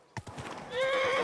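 Horse in the medieval game Kingdom Come: Deliverance II gives a sharp close whinny that rises and holds, after a few quick hoof clops at the start; no talking.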